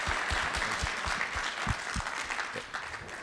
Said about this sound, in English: Can we give Shane a round of applause for the information?